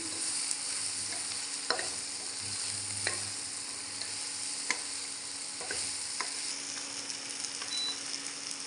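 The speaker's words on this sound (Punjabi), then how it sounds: "ਹਲਦੀ ਨੂੰ ਆਪਾਂ ਇੱਕ ਦੋ ਗੇੜਾ ਦੇ ਕੇ ਪਕਾ ਲੈਣੇ" Turmeric stirred and fried in a pan gives a steady, close sizzle, with occasional scraping strokes of a spoon against the pan and no talking.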